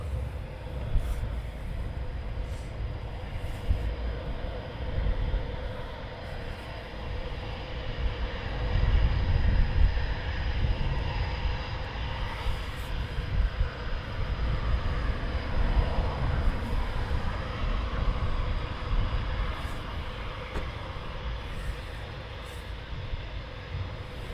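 A military jet taxiing out at RAF Coningsby during a NATO exercise, heard as a steady distant engine roar and whine over low rumbling, fairly loud and continuous throughout with no speech.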